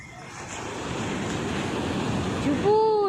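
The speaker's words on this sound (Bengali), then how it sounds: "দেখো সমুদ্রের ঢেউগুলো কেমন আসছে" Sea waves wash onto a beach at dawn in a steady, loud rush of surf with wind noise, ending with a brief high whistling tone.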